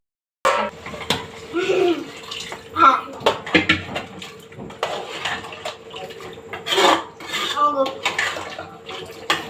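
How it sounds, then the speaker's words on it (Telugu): Water pours into a cooking pot amid clattering cookware, with a voice speaking intermittently over the splashing. "మళ్ళీ వాటర్ పోసుకుందాం"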